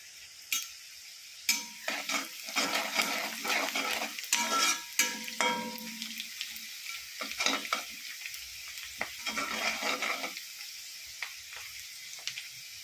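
Chopped onion, ginger and green chilli fry in a pan for upma, a steady sizzle broken by repeated scraping stirs, close and clear with no talking.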